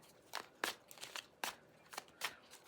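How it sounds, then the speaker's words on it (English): A Steampunk Fairy tarot deck is shuffled up close, giving faint, crisp riffling bursts of cards in an irregular rhythm with quiet pauses between them. "I'm just going to shuffle and show off of it"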